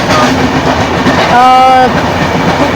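Ernakulam–Nizamuddin Duronto express train on the Konkan railway, running loudly and close by with a steady rail rumble and clatter, a brief tonal screech or whine partway through, under some speech.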